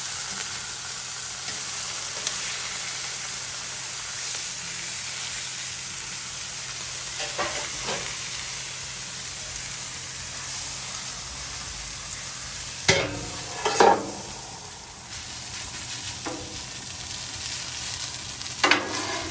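Leftover Chinese food reheating in a pan, a steady close sizzle with intermittent stirring scrapes and clatters of a utensil, a few louder clanks near the end; no talking.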